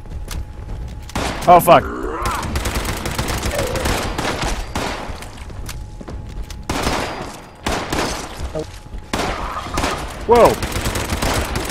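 Rapid bursts of gunfire from the video game Fallout 76 during a fight against respawning enemies, with loud volleys and sharp shots recurring across the stretch while players shout and talk over it.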